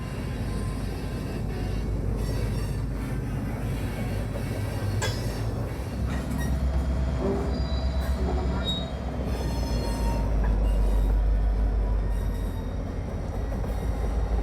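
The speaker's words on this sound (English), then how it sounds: "Red continues to bring the train south until it reaches the Garden City Lumber Yard." A freight train rolling slowly past a lumber yard siding at night, a steady low rumble with faint wheel squeal and clanking, heard from a moderate distance without talk.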